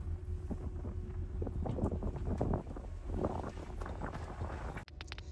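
Strong wind buffets the microphone aboard a boat on open water at sea, a continuous roaring rumble with gusting surges and a brief sharp dropout near the end, no voices audible.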